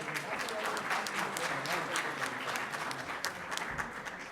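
A conference audience in Chicago breaks into a full, steady round of applause for the winning team, many hands clapping densely and evenly throughout at close range.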